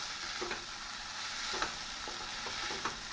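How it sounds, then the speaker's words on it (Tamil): Mint leaves, coriander and tomato sautéing for chutney in a pan, a steady soft sizzle broken by a few scraping stirs, close and alone with no talk. "இவை அனைத்தும் நன்றாக வதக்க வேண்டும்"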